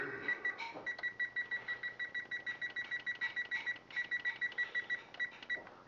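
A kitchen timer gives a few button clicks as it is set, then beeps in a rapid, steady run of short electronic tones at moderate volume with no one talking.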